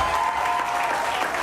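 Parents applauding at a school banquet: a steady burst of clapping from a modest crowd in a room, even and sustained across the short moment.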